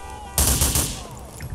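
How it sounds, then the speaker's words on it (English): A single loud burst of gunfire in GTA IV hits sharply and then decays into a short ringing tail, with no talking. "Is there something shooting at you from somewhere?"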